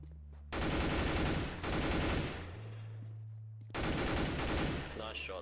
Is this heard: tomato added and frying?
no